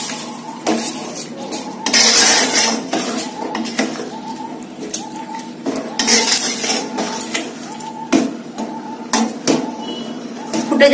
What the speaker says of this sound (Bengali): মশলাটা ভালো করে মিশিয়ে নেব।